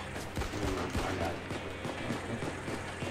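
Gunfire during a heist in the Payday 2 video game, rapid fusillades of shots crackling low and fairly quiet in the mix, running continuously for a few seconds.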